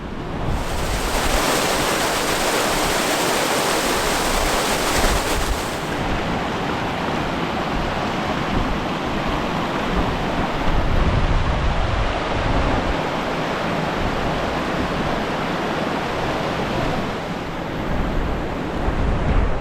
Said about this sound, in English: I gotta stop talking for a second because I have to cross this river.